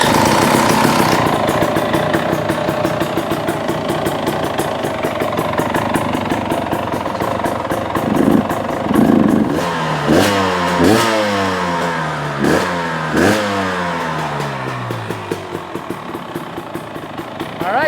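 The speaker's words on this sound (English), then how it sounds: "And then we're going to pull the choke and hit the button. Hopefully we're going to get a motorcycle that starts." A KTM 300 TX300i two-stroke motorcycle with a dented pipe runs loud and close, a steady rattly idle that breaks into several sharp revs rising and falling near the end, with no talking.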